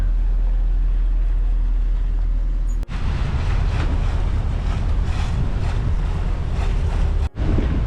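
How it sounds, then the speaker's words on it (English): Loud wind buffeting and the churning wash of a barge passing on a river, a steady heavy rumble with two brief cut-outs. "And we meet another barge."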